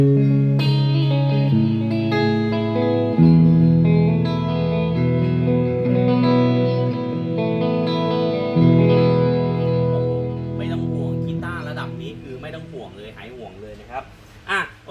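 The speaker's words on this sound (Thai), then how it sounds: "อันดับแรกเป็นเสียงคลีนก่อนเลย" A clean PRS Custom 24 electric guitar through a Boss ME-80 multi-effects rings out in sustained chords and single notes, shimmering with effects, ending in a few plucked notes near the mic.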